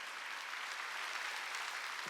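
A church congregation claps at a Wednesday worship service, a soft, distant wash of applause that stays fairly even, with no distinct individual claps and no talk.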